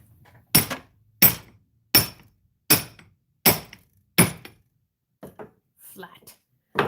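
A hammer strikes a piece of wire six times at an even pace to flatten it, each blow sharp and loud with a ringing metallic edge, followed by a few softer clinks and handling sounds.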